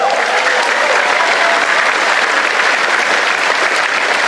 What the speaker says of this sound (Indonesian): saya pengen minta tepuk tangan yang paling meriah kepada dua ketua umum kita